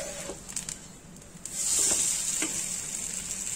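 An uttapam fries on a tawa as oil is drizzled around its edges. A soft crackle swells into a louder, steady hiss of hot oil midway, with a couple of faint clicks.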